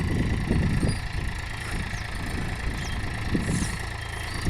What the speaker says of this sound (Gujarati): આ ટેક પ્લસ એન્જિન છે આમાં એમજીપનું।